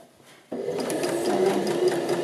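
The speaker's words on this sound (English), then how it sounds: "the needle goes into fabric, into nothing, into fabric, into nothing as you sew down this seam" A sewing machine runs a zigzag stitch along a fabric seam, starting abruptly after a quiet moment and then humming and whirring steadily, close and continuous, with no talk.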